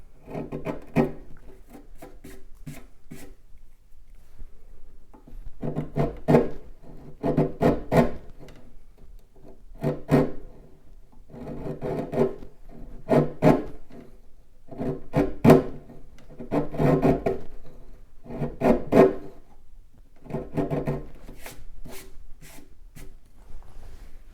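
A chisel pares wood while fitting a tapered end inlay, producing short rasping scrapes in rhythmic clusters separated by brief pauses, close and fairly quiet.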